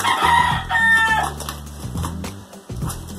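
A chicken crows in short, loud, strained calls, with a couple of bursts close to the listener and no speech.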